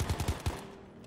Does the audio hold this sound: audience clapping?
no